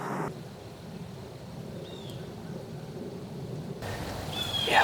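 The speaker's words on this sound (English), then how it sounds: "it's starting to rain" Light rain beginning to fall over a food plot outside a hunting blind, a soft, steady patter with a faint low rumble beneath, rising slightly toward the end.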